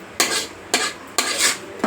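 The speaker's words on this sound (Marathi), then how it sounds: "चांगलं मिक्स करून घ्यायचं." Metal spoon scraping and stirring pav bhaji in a pan in a home kitchen, four loud bursts of scraping strokes with brief pauses between, no talk.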